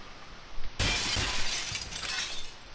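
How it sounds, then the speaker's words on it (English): A window pane is smashed with a broom, giving a sudden loud crash of breaking glass followed by a sustained bright spray of shards tinkling and scattering, with no voices. "The window shattered inward as the harsh sound of breaking glass assaulted my ears"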